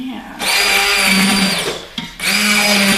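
An immersion blender whirs through asparagus soup in a separate bowl, a loud, close motor drone that cuts out for a brief moment before starting up again at full speed.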